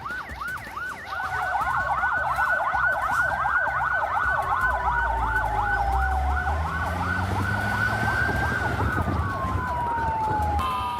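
Several fire engine sirens wail and yelp at once near a burning petrol station, loud and overlapping, with the wavering tones rising and falling over a low engine rumble.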